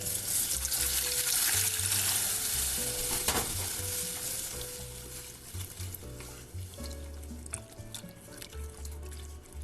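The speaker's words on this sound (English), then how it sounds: "Okay, let's add the broth." Broth is poured onto a roux of flour, butter and onions for sauerkraut soup, and the pan sizzles loudly up close while liquid splashes and a spoon stirs intermittently; no one speaks.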